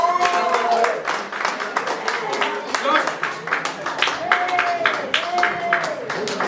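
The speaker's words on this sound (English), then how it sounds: "let's have a cheer for them" Crowd at a youth sports presentation evening cheering and clapping in a steady, lively burst, with whoops and shouts mixed in and voices carrying over the applause throughout.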